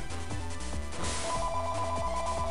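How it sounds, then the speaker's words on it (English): A phone rings steadily over continuous game music during a Mega Man Battle Network 2 play session, its repeating electronic tone layered on top and moderately loud. "That's the phone goes off."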